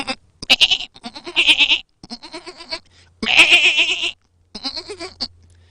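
A woman imitates a goat, giving several wavering, nasal bleats one after another with short pauses between them, loud and close, with no real animal present.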